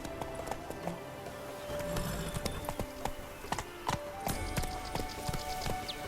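Hooves of Roach the horse galloping in The Witcher 3: Wild Hunt, a fast rhythmic clip-clop of repeated hoofbeats, close and fairly loud over a game background.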